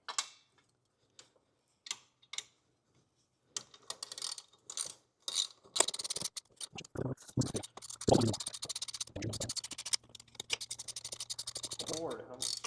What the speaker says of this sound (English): finish tightening this bolt that goes into the timing cover for the lower charge pipe